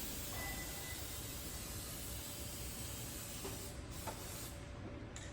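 An aerosol spray can hisses in a steady continuous stream beside a car tire, a close, constant spray that runs through the whole stretch with a few faint clicks near the end.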